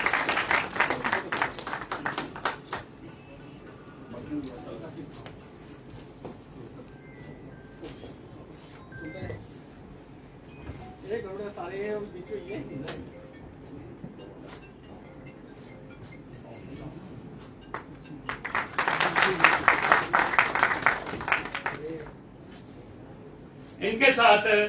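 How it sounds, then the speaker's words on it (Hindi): An audience at a BJP political event in Jammu and Kashmir claps loudly at the start, then quiets under speech and a room murmur before a second strong round of applause and a brief final burst. "जोरदार तालियां।"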